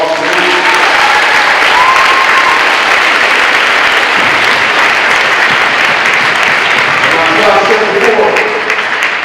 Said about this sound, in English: give yourself a great big hand clap to all of y'all.